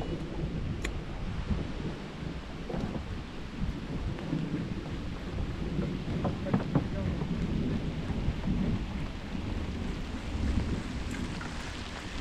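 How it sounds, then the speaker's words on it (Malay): Heavy rain pours down outdoors during a storm on a fishing trip, a dense, steady hiss with gusting wind and scattered sharp drops or knocks, continuous throughout at moderate loudness. "Hujan lobek, hujan tu."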